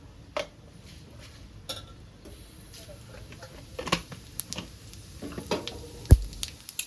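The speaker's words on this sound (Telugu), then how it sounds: "ఆయిల్ వేడైంది, ఆవాలు జీలకర్ర వేసుకుందాం." Mustard seeds and cumin crackle faintly in hot oil while making a Telugu fenugreek-leaf dal and ridge gourd curry, a soft steady hiss broken by scattered pops, light utensil clinks and one sharp knock near the end.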